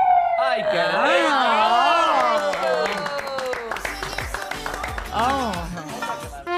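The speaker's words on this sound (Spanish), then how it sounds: "Aplaudan un ratito." A TV studio audience on a Spanish-language morning show breaks into scattered, sharp claps after loud swooping, siren-like wailing tones, with a voice also heard in the mix.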